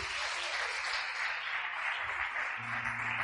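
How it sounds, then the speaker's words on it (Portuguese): A church congregation claps during a Portuguese-language sermon, a continuous wash of applause heard at a distance and fairly faint, with no talking over it. "Aplauda Jesus."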